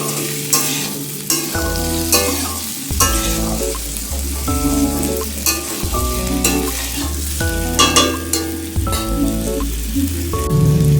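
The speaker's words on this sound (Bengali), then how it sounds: "কুমড়ো আলুটা ভালো করে নাড়িয়ে নাও।" Pumpkin and potato curry stirred in a frying pan, a loud close sizzle with repeated scraping strokes of a spoon against the pan in an uneven rhythm, no talking.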